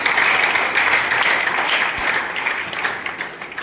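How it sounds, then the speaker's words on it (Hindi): An audience breaks into loud, dense applause that stays strong and then begins to taper off slightly toward the end. "उनके लिए मैं चाहता हूँ कि एक बार जोरदार ताली हो जाए"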